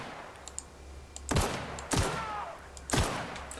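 Enemy gunfire in The Outer Worlds: three sharp, loud shots spaced about a second apart, each followed by a brief ringing tail, over a quiet background with a few faint clicks.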